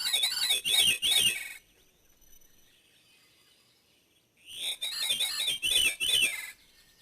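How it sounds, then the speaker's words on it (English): Veery thrush song in a woodland setting: two clear, spiraling phrases of layered, ringing notes that drop in pitch, separated by a few seconds of near silence, moderately loud and alone. "This is a veery thrush. And it's a beautiful song."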